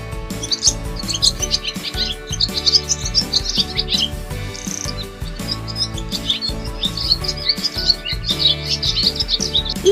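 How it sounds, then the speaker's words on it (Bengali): A dove calls from a tree, with bright repeated chirping notes that carry steadily through the whole stretch, close and clear. "ঘুঘু পাখি ডাকছে গাছে"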